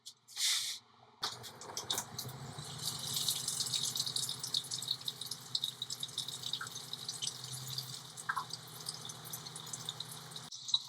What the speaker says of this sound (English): Now I'm going to slowly open the faucet to get the flow rate correctly.